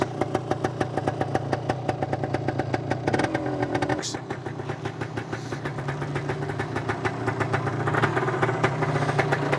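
A 1977 Yamaha DT250 motorcycle engine idles close by with a steady, rapid two-stroke putter, loud and continuous, with a slight dip and rise in revs partway through.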